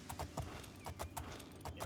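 Horse hooves clip-clop in a steady repeating rhythm with a brief whinny, from a horse in the video game Oblivion; the sounds are fairly faint and have no talk over them.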